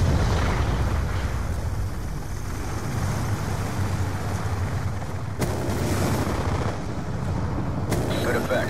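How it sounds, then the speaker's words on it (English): A Hellstorm missile strike in Black Ops 2, a rumbling barrage of explosions and gunfire that continues for several seconds with sharp blasts near the middle and end, loud and close. "Hellstorm missile inbound."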